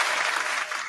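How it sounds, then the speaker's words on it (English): A brief burst of dense audience applause for Miss Monique, loud and steady, then tapering slightly at the end. "I want y'all to help me give Miss Monique a nice round of applause"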